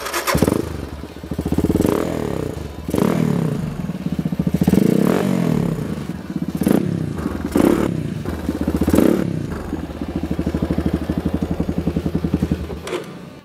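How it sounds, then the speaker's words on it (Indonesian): A Yamaha Scorpio motorcycle built as a bobber idles loudly up close, its single-cylinder engine thumping with a rapid, even beat and blipping through several revs before settling back to a steady idle. "Nah, itu tadi suara dari Yamaha Scorpio konsep bobber ini cuy."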